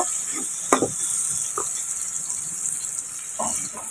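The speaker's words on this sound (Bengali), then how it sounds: "এখন এটাকে আমি একটু ফ্রাই করবো গোল্ডেন আসা পর্যন্ত।" Raw onion frying in a pan over a wood-fired clay stove, a steady broadband sizzle with a few brief stirring scrapes, close and continuous with no talking.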